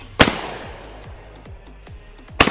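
A shotgun fires at a sporting clays course: two loud, sharp blasts about two seconds apart, each decaying quickly into the open-air quiet between them.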